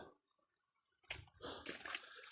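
River water splashes and sloshes during a crossing on foot in the mountains, starting after a quiet moment with a sharp splash followed by uneven, churning splashes at close range.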